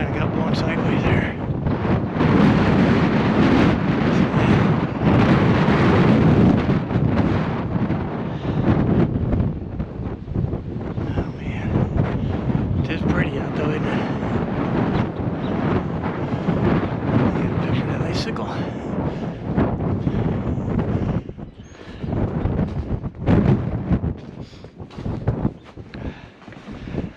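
Strong blizzard wind roars and buffets the microphone outdoors at a house in Fremont, Nebraska, a loud continuous rushing with gusty swells throughout, while someone talks briefly over it.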